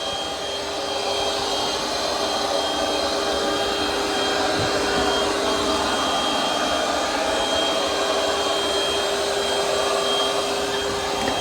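A Roborock Curv 2 robot vacuum runs in vacuuming mode, giving a steady, close whirring hum with a constant airy hiss that holds evenly for the whole stretch with no talk.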